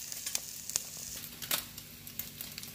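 An egg fries in a pan, a soft, steady sizzle with faint crackles and pops and no talking.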